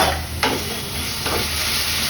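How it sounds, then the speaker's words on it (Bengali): Onions and potatoes fry in a pan with a steady, close sizzling hiss, broken by a couple of brief stirring flares. "আর এদিকে পেঁয়াজ ভাজতে বসিয়ে দিয়েছি, আর এদিকে পনিরের জন্য আলুটাও ফ্রাই করে নিচ্ছি।"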